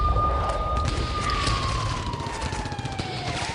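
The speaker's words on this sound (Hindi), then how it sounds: "सायरन डाउन, एम्बियंस अब।" A siren wails steadily, then slowly falls in pitch as it fades down, set over a dense rumbling background of wartime ambience in a Russia–Ukraine war news segment.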